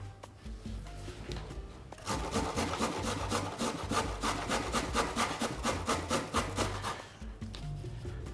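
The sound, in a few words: grating carrot on the fine holes of a grater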